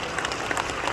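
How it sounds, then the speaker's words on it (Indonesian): A short burst of dense audience applause at a business seminar in Kuala Lumpur, many hands clapping steadily and fairly loudly with no voices over it. "beri tepuk tangan meriah untuk Liwe internasional"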